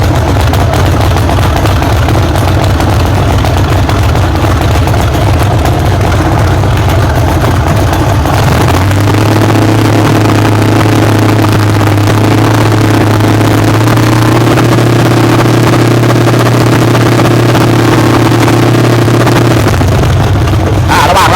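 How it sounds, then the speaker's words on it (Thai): A car engine cranks and catches, then settles into a steady, loud idle with a constant low hum, warming up after an oil change with three full bottles of oil added. "ตอนนี้เราก็จะสตาร์ทวางเครื่องครับแป๊บหนึ่ง"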